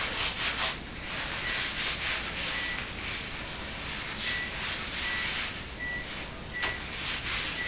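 Concrete being smeared and pressed into the cracks of a leaf mold with a small trowel or palette knife gives a steady close scraping and rubbing sound, continuous throughout with slight swells.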